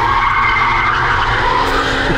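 Tires skid loudly while the driver shifts gears mid-slide on a race track during a lap-timing run, Mercedes C32 AMG or Infiniti QX30; continuous engine roar and tire noise, close and dense throughout.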